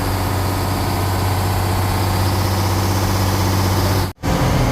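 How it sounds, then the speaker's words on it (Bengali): A Detroit Diesel engine aboard a passenger launch drones steadily with a deep, even hum, loud and close, briefly dropping out near the end. "লঞ্চটির প্রপালশন সিস্টেমে ডেট্রয়েড ডিজেল ইঞ্জিন ব্যবহার করা হয়েছে"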